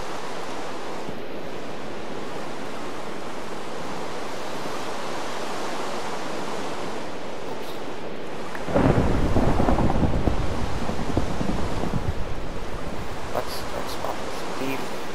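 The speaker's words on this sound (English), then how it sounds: "It's raining inside my house." In a Minecraft storm, a steady hiss of rain is broken midway by a loud, rumbling thunderclap that rolls on and slowly fades back into the downpour.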